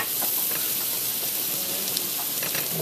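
A tea kettle boils on a kitchen stove, giving a steady, fairly loud broadband steam hiss that holds for the whole stretch with slight fluctuations and no talking over it.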